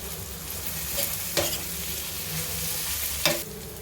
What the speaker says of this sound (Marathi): हे छान परतून घेऊया तर यामध्ये शिमला मिरची घालूया